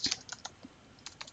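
Rapid typing on a computer keyboard while coding a web page, crisp irregular key clicks in short bursts, close and fairly quiet with no voices.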